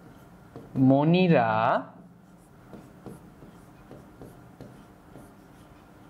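Handwriting with a pen on paper: short scratchy strokes come in quick, uneven bursts after a brief spoken word.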